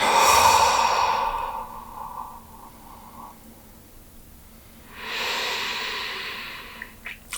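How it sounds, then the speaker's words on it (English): A yoga practitioner lets out a long, breathy exhale through the mouth that fades gradually, followed after a quiet pause by a second audible breath, close and soft with a hissy airy texture. "take a deep breath in. And exhale through your mouth"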